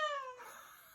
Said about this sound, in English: my kitty is here